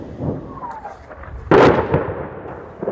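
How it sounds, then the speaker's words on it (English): A rocket lands in a street in Kherson, Ukraine, as a single loud, close blast with a rolling rumble afterward, preceded by a faint whistling tone and followed by a quieter thump. "it means afternoons with the noise of rockets landing in the streets."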